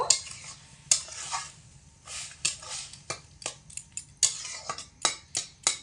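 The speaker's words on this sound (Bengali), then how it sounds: "হালকা একটু নাড়াচাড়া করে দেব" Grated carrot is stirred in a pan for carrot laddu, producing a rhythmic run of about a dozen close scraping strokes of a spoon against metal over a light sizzle.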